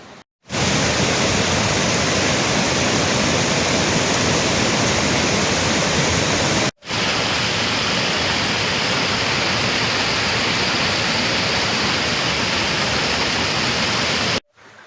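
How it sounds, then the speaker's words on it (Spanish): Spring water pours down from the mountains toward the pools at Semuc Champey, a loud, dense, constant rushing roar like a waterfall, close and unbroken apart from two brief cuts. "Estos son los nacimientos de agua que bajan desde las montañas"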